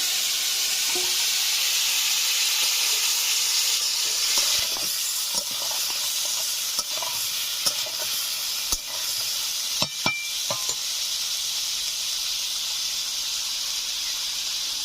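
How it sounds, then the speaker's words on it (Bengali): Steady loud sizzling of boiled potatoes frying in hot oil, with occasional clinks and scrapes of a utensil against the pan. "আমি সেদ্ধ করে রাখা আলুগুলোকে এই তেলের উপরে দিয়ে দিচ্ছি।"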